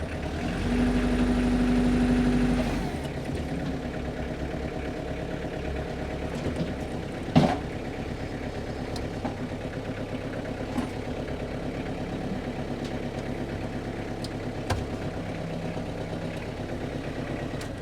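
A Kubota GL367 compact tractor with a front loader idles with a steady low chugging rumble, a brief louder revving hum at the start, then a constant putter throughout.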